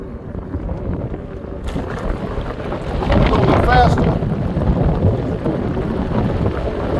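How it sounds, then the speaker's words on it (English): Heavy wind buffets the microphone outdoors during a ride on a Senada Saber Plus electric bike, a constant low roar that swells louder midway, with a voice briefly speaking through it. "it's pretty windy, so I'm trying to fight the wind here a little bit"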